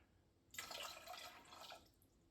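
Water poured into a container for a pickling brine of water and rice wine vinegar, a steady soft splashing stream that begins abruptly and runs for under two seconds before tapering, close and fairly quiet.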